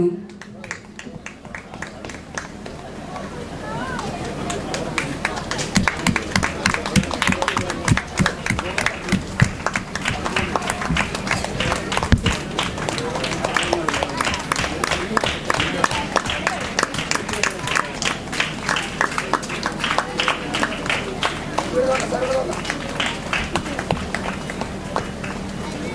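Sustained audience applause fills an award ceremony at a Kathakali festival cultural meeting, with dense, steady clapping carrying on throughout and a voice faintly audible beneath it.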